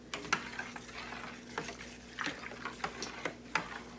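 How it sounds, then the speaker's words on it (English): Homemade laundry soap mixture being stirred in a pot until it melts, with intermittent scraping and sloshing strokes at an irregular rhythm, close and moderately loud. "we're gonna mix this up together until this gets all melted"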